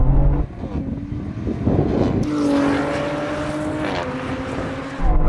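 A BMW M4, AMG C63s and Audi RS5 launch together in a drag race, loud engines surging and climbing through rising revs with a sharp shift partway, the roar close and sustained.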